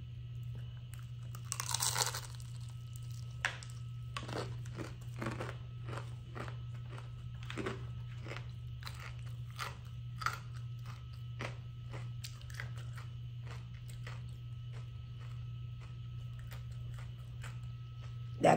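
Crunchy takeout food being chewed up close, with repeated sharp crisp bites and crackling crunches spread across the span over a steady low background hum, and no talk heard.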